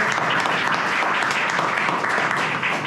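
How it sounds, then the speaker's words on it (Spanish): Audience applause at a presentation of the book Gol Sostenido, a dense, steady wash of many hands clapping at close range that holds throughout without pause. "Por favor, un fuerte aplauso para ella."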